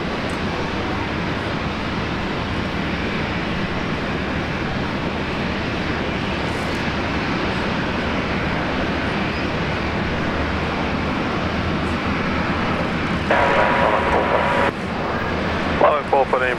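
An Airbus A320neo aircraft at Brisbane Airport gives a steady, distant engine roar with broad rumbling noise over the whole span, while voices talk over it toward the end.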